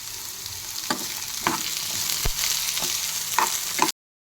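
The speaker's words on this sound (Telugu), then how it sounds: "మీడియం ఫ్లేమ్లో పెట్టుకొని ఫ్రై చేసుకుంటున్నా." Ivy gourd pieces fry in a pan over a medium flame, a steady close hiss of oil broken by a few soft thumps and scrapes of stirring.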